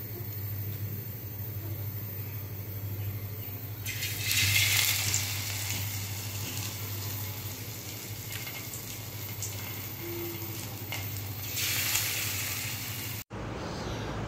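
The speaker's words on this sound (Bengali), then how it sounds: "ব্যাটার ডুবাইয়া তারপর ভাজা নিব" Battered taro stem fritters fry in hot oil with a steady, faint sizzle, rising into louder crackling bursts twice as pieces go in or are turned; no talking.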